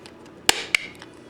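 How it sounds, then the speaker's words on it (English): Plastic clips are snapped back into a UE Miniboom speaker, giving two sharp, close clicks a quarter second apart, then a faint tick, with no talking. "I'm just going to try to snap it back in there."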